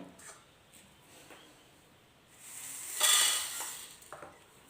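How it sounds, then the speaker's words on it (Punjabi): Whole pickle spices such as carom, black pepper, fenugreek, fennel, cumin, coriander and yellow mustard seeds dry-roasting in a pan, with soft scraping and stirring that builds to a brief louder rustle and clatter, no voices. "ਇਹਨਾਂ ਨੂੰ ਆਪਾਂ ਹੁਣ ਰੋਸਟ ਕਰਦੇ ਆਂ"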